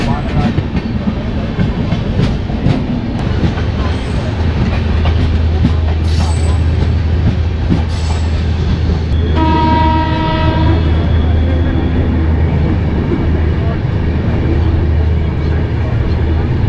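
Ghazipur City Superfast Express train passing close by, a loud continuous rumble of wheels and wagons with clattering rail noise and a long horn blast partway through.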